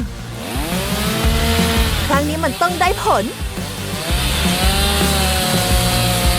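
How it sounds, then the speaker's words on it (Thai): An electric chainsaw buzzes and grinds as it cuts into a chocolate fondue fountain, its whine rising and wavering, with a person talking over it. "งั้นก็เราต้องใช้ เลื่อยไฟฟ้า ใส่แว่นตาก่อน แล้วก็ลงมือ"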